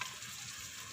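Onions frying in hot oil in a pan for a Punjabi-style mixed vegetable dish, a steady close sizzle with no speech.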